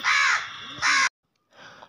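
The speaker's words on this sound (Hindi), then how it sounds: "आप लोगों ने कौए की आवाज़ सुनी" A crow cawing in the morning outdoors, two loud harsh caws close by, followed by a short silence and a fainter third call.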